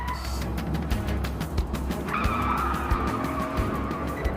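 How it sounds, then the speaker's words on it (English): A runaway Volkswagen Golf TDI is driven fast in laps around a housing estate, engine droning steadily with tyres squealing and skidding partway through, loud and close with no talk. "The runaway Golf TDI is doing laps like it's at Le Mans."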